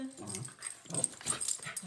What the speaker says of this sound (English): She's a little toy poodle.